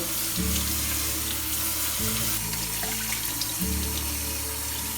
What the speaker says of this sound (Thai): เราก็จะล้างน้ำให้สะอาดเลย